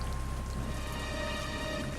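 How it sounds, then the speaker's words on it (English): Continuous rain falls steadily, a dense even patter of drops with constant loudness and no voices over it. "It began to rain."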